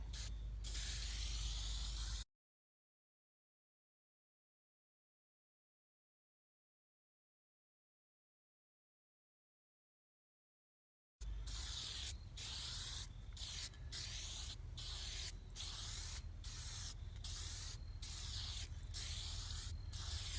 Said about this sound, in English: So we're just putting down a light coat because I don't expect an even spray out of this.